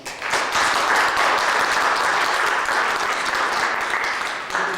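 A lecture audience in Yucatán breaks into sustained applause to welcome a speaker, a dense, steady wash of clapping that stays loud and even for nearly five seconds before briefly dipping at the end.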